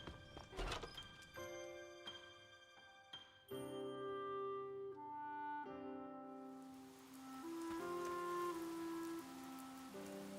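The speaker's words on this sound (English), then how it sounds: "Ooh, sweet, it's raining again." Soft, steady rain patters in the video game Harvestella beneath a calm melodic tone and layered chiming notes, with a few hollow knocks early on; no voices.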